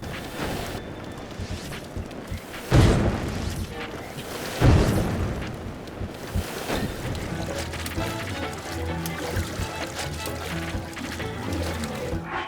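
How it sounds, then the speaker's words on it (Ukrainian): A raft moves across water under enemy fire in Zelda: Breath of the Wild, with sloshing water and two heavy booming impacts amid continuous busy game sound effects. "ми орендуємо плід і намагаємося пропливти під вогняні постріли ворога"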